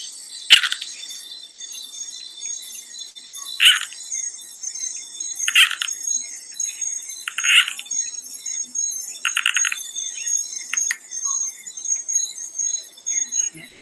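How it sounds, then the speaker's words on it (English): A Bornean tree frog gives short, high-pitched chirping calls about every two seconds, each a quick burst, over a steady, thin, high background hum. "It's a species of tree frog"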